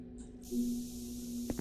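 A spray can marking walls in a Roblox video game: a short, soft hissing spray starting partway through over a low steady hum, ending with a couple of brief taps, no talk.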